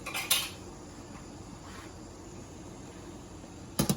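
A metal lid clanks onto a pot of shrimp curry, two short bright clatters, one at the start and one at the end, separated by a low steady background hum.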